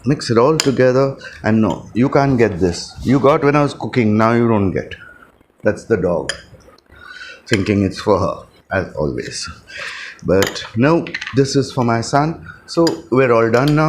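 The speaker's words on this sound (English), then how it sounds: "It's all nicely mixed. Mustard, mayo, and sriracha sauce." A spoon mixes mustard, mayo and sriracha sauce in a bowl, giving repeated clinks and scrapes against the dish while someone talks continuously over it in a home kitchen.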